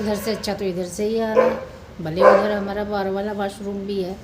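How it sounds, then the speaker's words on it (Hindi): A dog barks repeatedly in short bursts nearby, interleaved with someone talking over it in a home setting. "ये कुत्ता क्यों भौंक रहा भाई इतना।"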